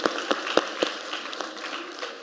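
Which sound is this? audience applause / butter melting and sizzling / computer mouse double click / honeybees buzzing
audience applause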